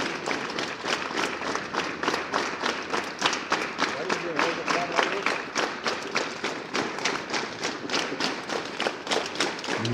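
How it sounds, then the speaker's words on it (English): Students clap their hands during a school morning assembly, a fast, steady, rhythmic beat of many hands together, moderately loud and continuous with voices faintly underneath. "Clap your hands. Put your hands and clap again."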